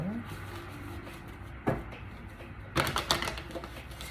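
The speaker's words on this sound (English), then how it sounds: "Let me go ahead and give it one more shuffle." Deck of tarot cards being shuffled, with soft rustling and then two sharp riffling bursts of cards snapping together, close and under a steady background hiss.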